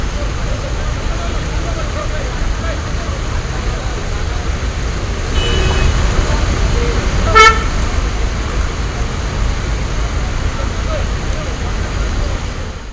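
Traffic stands jammed on Hyderabad's Outer Ring Road near Narsingi after a bus accident, a constant rumble of engines with a single short car horn toot near the middle.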